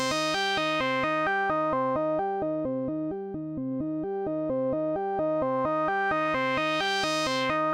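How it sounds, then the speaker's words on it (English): Synthesizer playing a repeating bright, buzzy note pattern while a low-pass filter sweeps. The high overtones fade away and the tone turns dull and muffled, then the brightness opens back up at the end. Steady and alone, with no voices. "a low-pass filter is going to take the high parts and remove them"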